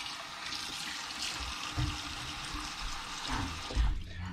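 Cold tap water running over muskrat meat set to soak in a kitchen: a steady close gush and splash with small surges, no talk.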